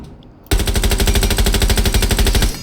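An automatic weapon fitted with an extended barrel fires a sustained rapid burst of about two seconds in Rainbow Six Siege, loud and close, with evenly spaced rattling shots and no talk.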